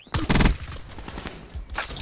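Rapid gunfire from a Basilisk gun in an online first-person shooter match: a dense, fast burst of loud shots, followed by fainter scattered shots and another burst near the end.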